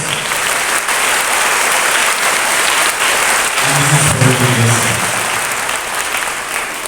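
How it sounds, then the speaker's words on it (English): Audience applause at a school investiture ceremony, a loud sustained wash of clapping from a large crowd, briefly overlaid by someone speaking on a microphone. "please give a big round of applause"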